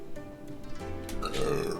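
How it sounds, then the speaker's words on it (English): A close, drawn-out burp after drinking Baja Blast soda, rumbling low and rising into a louder, voiced finish near the end, heard alone without talk. "Damn, this Baja Blast. Excuse me, really bringing out my burps."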